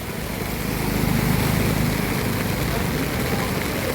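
A motorcycle engine rumbles low beneath a heavy downpour, the steady broadband hiss of rain filling the whole stretch at an even, loud level.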